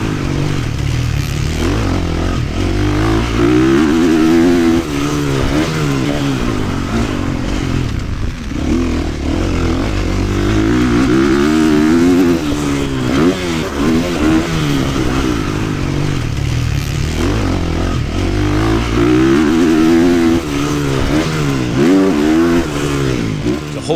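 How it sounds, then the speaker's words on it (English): A dirt bike rides through ruts on a motocross track, its engine loud and close throughout with repeated throttle blips and revs rising and falling as the rider brakes and accelerates. "I come in too fast, too hard on the brakes, and then I have to blop, blop, blop, tap the throttle a couple times"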